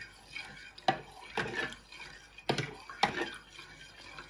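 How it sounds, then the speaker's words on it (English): A spoon stirs custard of milk and sugar for a Manchester tart in a pan, giving a few distinct scraping, knocking strokes close by, with quiet gaps between them. "And you want to give it a good stir"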